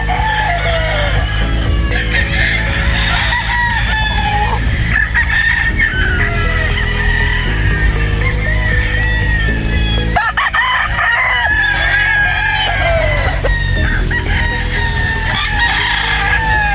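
Gamefowl roosters and stags crowing at a Philippine game farm, with many overlapping crows near and far and some clucking, loud and continuous over a steady background hum.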